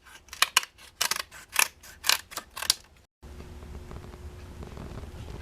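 Scissors trim excess material from a carbon fiber part in about eight quick, crisp snips, close and distinct, followed by a low steady hum.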